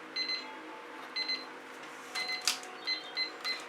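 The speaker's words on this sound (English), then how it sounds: "try and turn that timer off" A timer alarm beeps in repeated short bursts of paired electronic tones, fairly faint in a quiet room.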